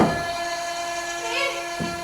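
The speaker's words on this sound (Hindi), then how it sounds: "रेल के आने का वक्त हो रहा है।" Train approaching as a stage-play sound effect: a steady tonal horn-like drone with rumbling rail noise fills the whole stretch at moderate loudness, with no clear speech over it.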